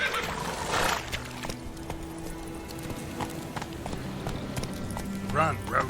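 Roach, the horse in The Witcher 3, gallops with rapid rhythmic hoofbeats and lets out neighs near the start and end, alongside game sounds and a voice speaking.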